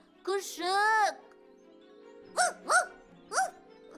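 An animated puppy in a cartoon gives a few short, high, yelping barks: two quick ones at first, then three more spaced out after a pause. They sound clear and near against a quiet background.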